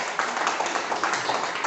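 A church congregation applauds together, a dense, fairly faint and even patter of many hands clapping for under two seconds.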